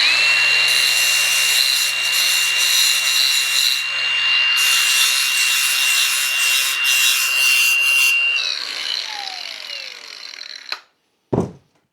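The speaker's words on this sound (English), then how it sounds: "So I'm going to take Lucille the box cutter and sharpen her up." A box cutter blade is drawn steadily along a sharpening surface for about eight seconds in a continuous close grating rub, then the scraping stops and a couple of brief handling clicks follow.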